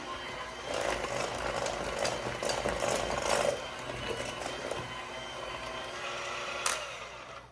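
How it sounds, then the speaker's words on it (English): Hand mixer whirring steadily as it blends a paste with liquid, a quiet mechanical motor hum with rattling, ratchet-like texture, close and continuous with a brief clunk near the end. "Now I'm gonna take my mixer and I'm just gonna mix this up."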